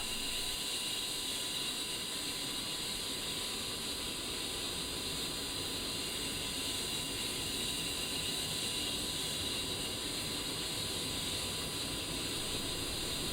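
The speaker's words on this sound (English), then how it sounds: "You will slowly start to see the engine spool up." A-10C jet engine spooling up during startup in a flight simulator game, a steady broadband hiss and whine with a high tonal band, holding constant and loud throughout with no talk.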